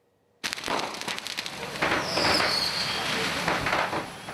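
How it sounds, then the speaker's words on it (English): Repeated explosions from fireworks in a burning fireworks store in Toronto, a rapid crackling series of bangs and pops that starts abruptly and continues loud and dense throughout, with a whistling streak partway through. "That the fireworks themselves just kept exploding complicated everything."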